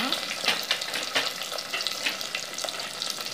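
Small shallots frying in hot oil for garlic curry, a loud, steady, close sizzle with crackling bursts throughout.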